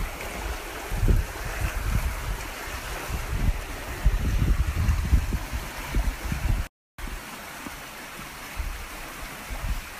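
Water rushes steadily at Point Reyes beach, a broad close wash of surf or stream flow running into the ocean, with brief low rumbles of wind and no voices.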